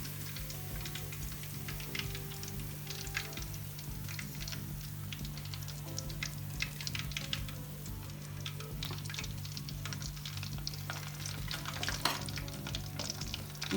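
Pieces of fish frying in oil over low heat for a restaurant-style Pakistani fish fry, with a steady crackling sizzle that runs the whole time and a low hum beneath it.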